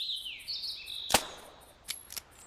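A hunting rifle shot in theHunter Classic rings out as one sharp, loud crack over chirping birds, followed by two fainter snaps.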